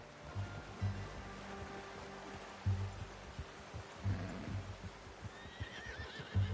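A horse whinnies loudly in the video game Red Dead Redemption 2, with a few scattered hoof clops and soft thuds around it, fairly close, no talking.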